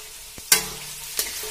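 Carrots stirred in a hot pan for veg spring roll filling, a soft steady sizzle broken by two sharp scraping clinks of a spoon against the pan, with no voices.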